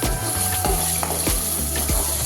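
Ground spinach paste fries in a pan with a steady, fairly loud close sizzle and a few soft stirring thuds, no talking.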